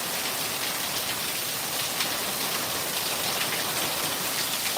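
Steady downpour with heavy drops and gusting wind outdoors in Texas: a thick, unbroken hiss of rain on surfaces at constant loudness, close and without talking.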